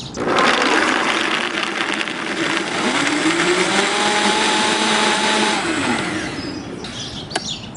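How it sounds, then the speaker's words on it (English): A blender runs steadily at high power, grinding almonds with water into nut milk, a loud continuous whirring roar that shifts pitch slightly before winding down near the end. "we're gonna let it blend for a while because what we're trying to do is break up those almonds"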